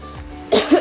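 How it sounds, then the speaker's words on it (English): A single short cough, close and fairly loud, breaks a quiet moment in an indoor setting. "To get a cough and like a tickly throat."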